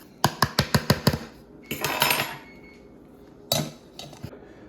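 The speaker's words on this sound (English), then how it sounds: "Now I mix all spices together." Spices such as nutmeg and salt stirred together in a bowl for a Jamaican black cake, giving a quick run of six sharp utensil clinks against the bowl, then a scraping burst and a few later taps, close and fairly loud.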